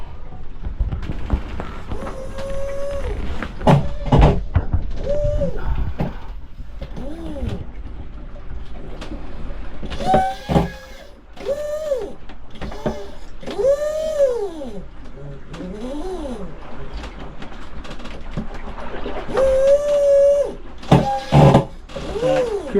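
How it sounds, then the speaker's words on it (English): A boat's new autopilot ram, thought to be faulty, makes a repeated creaking, grinding whine with rising and falling pitch that comes in short cycles. The noise is close up amid clicks and mechanical knocks. "That grinding noise right there is not great. I'm pretty sure it's the new Autopilot RAM."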